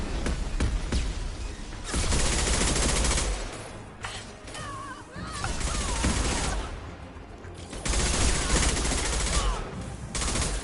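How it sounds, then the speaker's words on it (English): Heavy high-impact gunfire in the Mass Effect 2 Legendary Edition game, dense bursts and volleys of shots running almost throughout, loud and close, with brief quieter gaps between salvos. "Firing a high impact shot."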